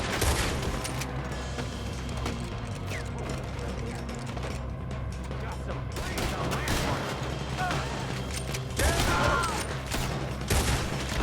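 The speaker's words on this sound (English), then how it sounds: "Why are they all shooting at me?" A shootout in the game Red Dead Redemption 2 crackles with dense volleys of gunfire and sharp nearby shots. Bursts spike at irregular intervals over a busy, noisy background, with voices mixed in.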